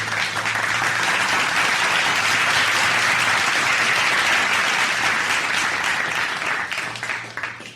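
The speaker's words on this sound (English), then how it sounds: "Please give a round of applause for Mr. Biff Henderson." Audience applause greeting a mixer being introduced at a live show, a dense, steady wash of clapping that holds loud for several seconds before beginning to thin out near the end.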